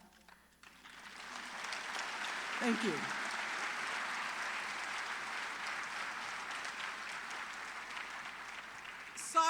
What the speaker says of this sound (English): let's just give a thumbs up and a clap.